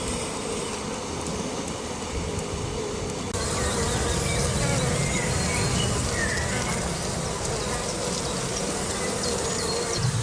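A dense swarm of bees buzzing around a Kenyan-style trap hive in May, a loud, continuous droning hum close by that swells slightly partway through.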